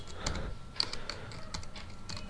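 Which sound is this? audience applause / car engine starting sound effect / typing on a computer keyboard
typing on a computer keyboard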